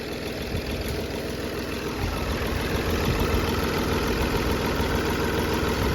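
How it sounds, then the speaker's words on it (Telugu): A Hyundai Grand i10 engine idles smoothly with a steady, even hum and faint vibration, close up and unchanging, with no talk over it. "ఇంజన్ నుంచి అయితే స్మూత్ నాయిస్ అండి."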